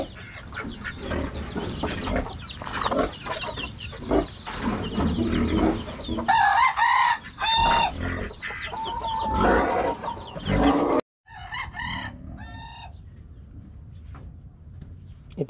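Native chickens cluck and call close by, with hens brooding on eggs in their nests; repeated throaty clucks and a few louder squawking calls stand out over faint background noise.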